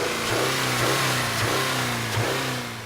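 A 2013 Subaru Crosstrek's 2-litre boxer engine revving with a gruff, throaty note, rising and falling in pitch through repeated pulls, loud and close, with no voices.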